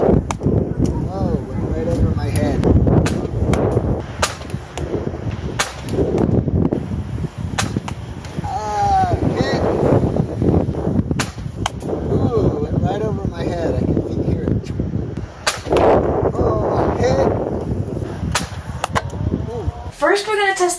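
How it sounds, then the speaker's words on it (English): A Nerf Rival Sideswipe blaster fires curving foam balls, its sharp pops and thuds mixed with wind noise and bursts of excited talking throughout. "He's gonna turn the muzzle down and see if he can make the ball go over this and hit me."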